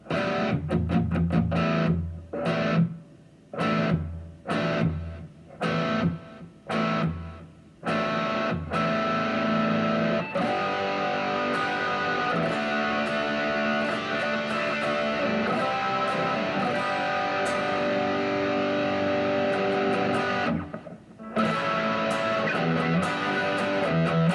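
A distorted Firefly Aerosonic 12-string electric guitar plays choppy strummed chords, then rings out in sustained, fuzzy, jangling chords with a bright, doubled shimmer.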